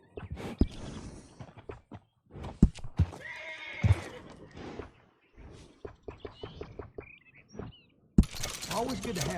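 A horse in a video game whinnies and snorts, with hoof clip-clops and small rustles scattered across the scene, while bursts of game dialogue come and go around it.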